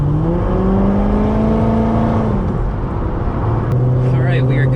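A Corvette fitted with upgraded Wilwood brake pads and rotors drives up to highway speed, its engine note droning loud and steady with a brief dip in pitch partway through, as if shifting gears.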